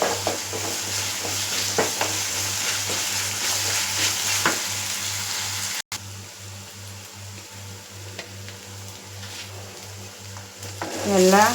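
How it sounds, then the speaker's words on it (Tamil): Ginger garlic paste sautéing in a pan for mushroom gravy gives a dense, continuous sizzle with scraping stir strokes, over a low rhythmic hum from nearby kitchen equipment. "நல்லா இப்போ வதக்கி விடலாம்"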